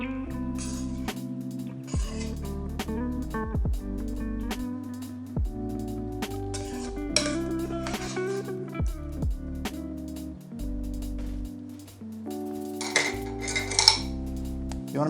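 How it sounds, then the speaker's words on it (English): Hot mushroom fettuccine with pan sauce is served from a pan into bowls, with steady clinks and scrapes of utensils against cookware and dishes running throughout, close and busy, with no talk. "Time to get this delicious hot pasta into our bowl so we can enjoy."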